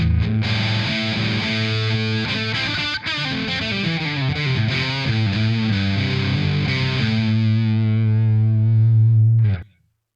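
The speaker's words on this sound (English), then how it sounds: "So if I flick it over onto the low pass filter mode, it sounds a little bit like this." A distorted electric guitar plays a sustained chord through a pedal in low pass filter mode, the tone sweeping and shifting before the ringing notes cut off near the end.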